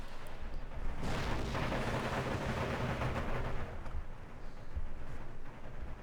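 Howitzer batteries fire in Empire Total War with the Darthmod mod during an Ottoman Empire battle, producing a heavy, sustained rumble of overlapping booms that swells after the first second and slowly eases off.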